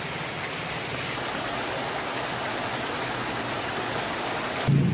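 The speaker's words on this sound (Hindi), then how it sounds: "बारिश हो रही है, लेकिन गर्मी में थोड़ी सी भी कमी नहीं आई है" Heavy monsoon rain falls steadily as a dense, even hiss through a hot afternoon in a Mithila village during a feast, with a louder low rush near the end.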